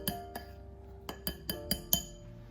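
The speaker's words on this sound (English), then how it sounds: "So I'm going to give that a whisk." A metal whisk clinks against a bowl while stirring cake batter with baking powder, giving a series of about seven sharp, close taps at an uneven rhythm with no one talking.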